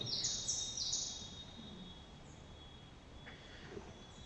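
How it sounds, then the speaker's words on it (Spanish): A bird repeatedly gives short, high chirps in bright bursts early on, then a few fainter calls at a distance over steady background hiss. "Ese sonido de ese ave."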